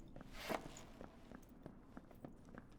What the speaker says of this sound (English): I come over here, I hear the footsteps